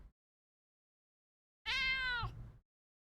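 One cat gives a single loud, clear meow lasting about a second after a long stretch of silence, with nothing else around it.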